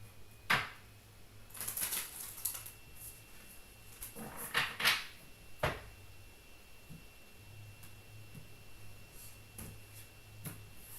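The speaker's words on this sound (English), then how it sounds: "One more shuffle." Tarot cards from a large deck are shuffled in several quick riffling bursts, close and fairly quiet, with soft pauses between them.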